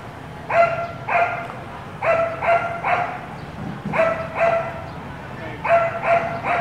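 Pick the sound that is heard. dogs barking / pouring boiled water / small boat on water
dogs barking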